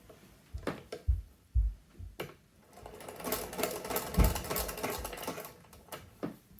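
A small sewing machine stitches elastic onto a fabric bowl cover in short bursts at first, then in a longer steady run of rapid needle clatter, close and fairly quiet, with no talk.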